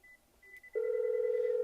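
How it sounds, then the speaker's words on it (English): An office desk phone dials an internal extension, then a steady ringback tone sounds clearly after a few faint beeps and holds evenly to the end. "there's where Alan has now answered the phone call"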